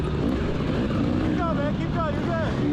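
Dirt bike engines rev hard during a Mid East off-road race round at Pea Ridge in 2019, with rising and falling pitch sweeps over a constant loud engine drone from nearby riders.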